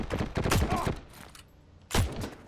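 Battlefield 1 gameplay with a dense flurry of close gunfire, a tight rattle of overlapping shots followed by a quieter gap and another sharp burst near the end.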